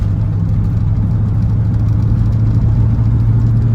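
A Ford Mustang engine held in its highest gear at low speed while the pedal is pressed hard, a steady, loud, low drone that runs through the whole stretch without a break.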